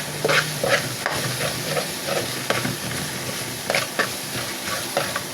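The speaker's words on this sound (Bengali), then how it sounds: "ভালো করে মশলাটা ভেজে নিতে হবে, যাতে কাঁচা গন্ধটা আর না থাকে" Spice masala fries and sizzles in a pan for a pumpkin curry tempered with nigella and cumin seeds, a steady hiss broken by rhythmic scraping strokes of a spatula stirring it close up.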